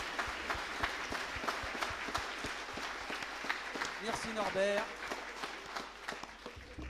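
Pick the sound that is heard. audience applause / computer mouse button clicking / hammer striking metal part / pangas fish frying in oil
audience applause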